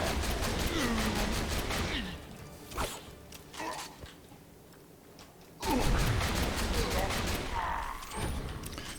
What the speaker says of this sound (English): I saw a lot of bullets flying around there.